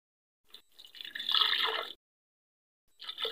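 Water is poured into a juicer jug, about half a cup, as a first step in making a beetroot and carrot drink: a short splashing pour, then a pause and another brief trickle, close by and fairly soft.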